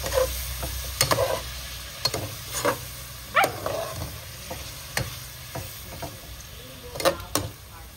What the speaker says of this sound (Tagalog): igisa lang natin konti yung bago